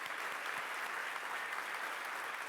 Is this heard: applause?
yes